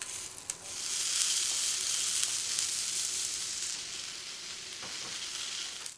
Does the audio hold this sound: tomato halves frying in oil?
yes